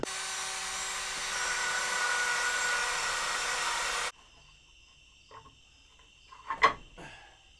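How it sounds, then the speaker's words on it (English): A drill boring a hole for a camera boom arm build: a steady high-pitched whine running close and loud for about four seconds, then stopping abruptly, followed by quiet handling clicks and a brief clatter. "so let me drill a hole."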